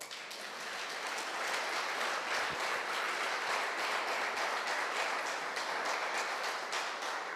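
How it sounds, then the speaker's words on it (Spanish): A church congregation applauding, a dense, steady wash of many hands clapping that holds at an even level throughout, heard from some distance. "Denle un aplauso al Señor."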